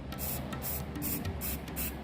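Aerosol spray paint can emptied upside down to clear its nozzle, giving a steady close hiss with short bursts over a low background hum.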